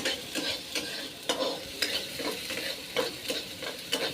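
Onion, garlic, curry leaves and potato fry in a pan, a low sizzle broken by repeated close stirring scrapes and taps at a quick, uneven rhythm, with no voices.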